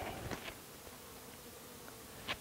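Faint honeybee buzzing at a hive drifts in and out against a quiet background, with a couple of brief louder passes close by.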